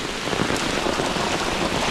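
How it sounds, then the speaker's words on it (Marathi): Heavy monsoon rain pours over village farm fields that are flooding and overflowing, a dense, steady hiss that stays loud and even throughout with no pauses. "आज तर मुसळधार पाऊस हा बघा शेतातून पाणी येतं"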